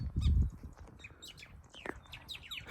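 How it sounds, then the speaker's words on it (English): Birds out in the bush near a nest give a busy mix of chirps, squawks and short rising calls, some close and some farther off. A low rumbling noise fills the opening moment. "what's the name of these birds?"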